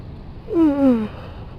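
A tired person yawns once, a drawn-out voiced breath that slides downward in pitch and lasts about half a second, close to the mic with no talk around it.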